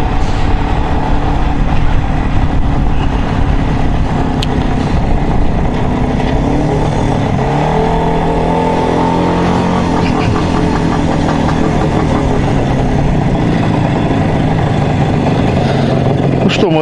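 An IZh Jupiter 3 motorcycle engine running during a road test, a loud continuous mid-pitched rumble with rising and falling revs, close and steady throughout.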